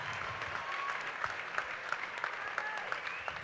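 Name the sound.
audience applause for fundraisers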